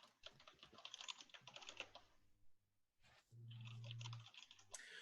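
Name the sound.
typing on a computer keyboard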